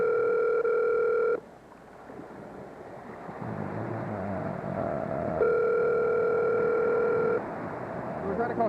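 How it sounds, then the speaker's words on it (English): A telephone ringback tone sounds while a call is placed, steady buzzing pulses at the start and again later, with murmuring voices and background noise in between. "We're trying to call Shane, it's ringing."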